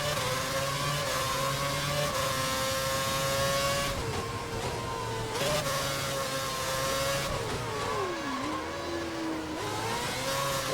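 Formula 1 cars racing at the 2011 Korea circuit in a video game: high-pitched engines whining steadily, pitch sliding down and up through gear changes and braking, loud and continuous with no talking.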